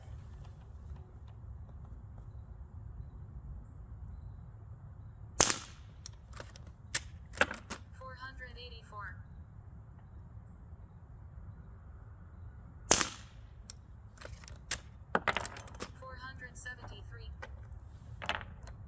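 A CO2 replica Winchester 1894 or Colt 1873 fires sharp, close pops outdoors on a cool day, a few spaced shots and a quick cluster, with faint talk and low background rumble between.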